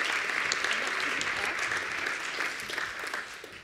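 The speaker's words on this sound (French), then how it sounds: "que je vous demande d'applaudir" Applause fills a university hall at the launch of an entrepreneurship and innovation hub, a steady wash of many hands clapping, with faint voices beneath.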